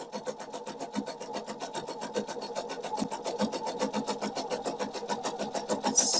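A sewing machine stitches Christmas hearts in a fast, even mechanical rhythm, the needle strokes running steady and close for several seconds before a brief change at the end.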